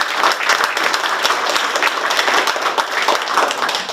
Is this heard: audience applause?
yes